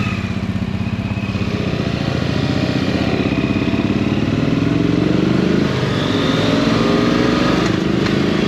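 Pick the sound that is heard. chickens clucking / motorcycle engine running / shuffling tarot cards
motorcycle engine running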